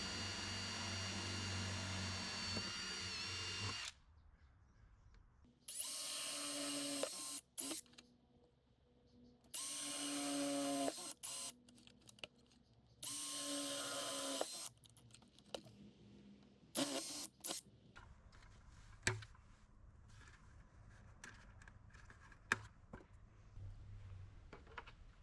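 Power drill boring half-inch holes in a plastic bucket, in several separate loud whirring bursts of a few seconds each with quiet gaps between, followed by softer handling clicks and rustles.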